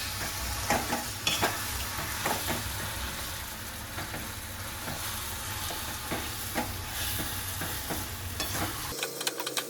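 Boiled potatoes being mixed slowly in a pan with spices for a dabeli filling, a continuous low sizzle with repeated scraping strokes of a spoon, ending abruptly.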